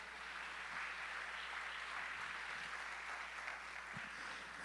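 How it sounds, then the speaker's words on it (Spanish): A church congregation applauding during a Spanish-language sermon, a faint but continuous wash of many hands clapping heard from a distance with low hum beneath. "Dale un fuerte aplauso a nuestro Dios amado."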